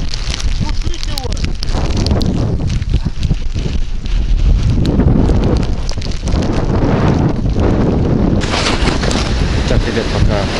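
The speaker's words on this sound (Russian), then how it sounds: "ветер мощнейший" Strong hurricane wind gusts during a hunt, roaring and buffeting the microphone nonstop, with a few voices faintly heard beneath the noise.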